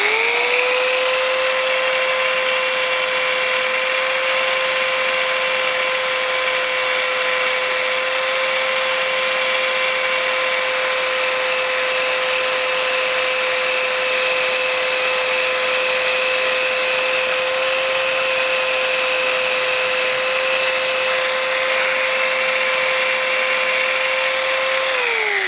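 A belt sander grinds sheet metal in a continuous, loud, steady whine with a constant tone, running uninterrupted throughout and easing off only at the very end.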